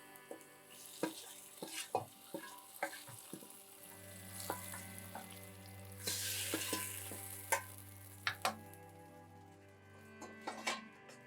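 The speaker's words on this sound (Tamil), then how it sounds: "கழுவி வச்சுருக்கிற கருவேப்பிலை தாளிப்பை வந்து குழம்புல ஊற்றிக்கலாம்" A hot tempering of curry leaves and two dried red chillies is poured into a village-style chicken curry. A sudden hissing sizzle swells midway among quiet clinks and stirring, faint and close, with no talk.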